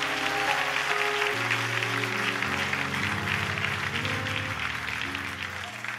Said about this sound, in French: ici, on applaudit à la gloire de Dieu.